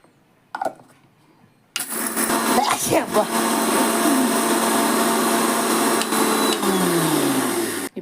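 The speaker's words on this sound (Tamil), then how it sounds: "நாங்கள் மிக்சியில் அரைச்சிக்கிறோம்" An electric mixer grinder whirs loudly and steadily, grinding masala for a village-style wild boar curry, starting abruptly after a brief quiet knock and running continuously to the end with a slight pitch drop.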